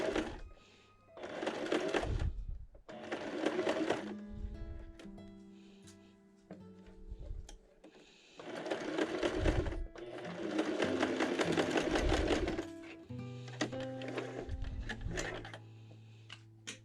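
A sewing machine stitching across a minky quilt, running in several loud bursts of rapid whirring and ticking, with quiet pauses and clicks between runs.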